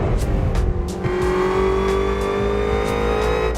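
A 770 hp Mustang GT350 in the Assetto Corsa racing game, heard from the first-person view, holds a loud steady engine drone that climbs gradually in pitch, with a few short clicks and thumps over it.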